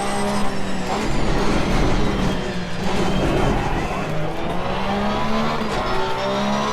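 Race car engine in a video game, revving and roaring steadily as the car struggles to slow through a section with understeer, the pitch rising and falling with faint tire scrubbing, loud and continuous with no talking.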